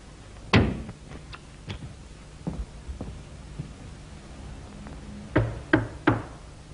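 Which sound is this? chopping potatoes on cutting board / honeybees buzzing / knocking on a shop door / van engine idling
knocking on a shop door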